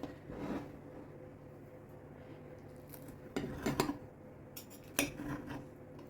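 Knife cutting into baked stuffed eggplant on a dish, soft scraping with a few sharp clinks of metal against the plate, quiet and close with no talking.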